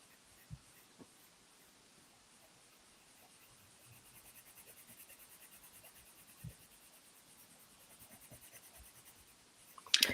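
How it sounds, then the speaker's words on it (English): A colored pencil is burnished on paper with heavy pressure, making a faint, steady scratching of repeated strokes with a few soft taps. "I'm going to push down a little harder, and this is what we call burnishing"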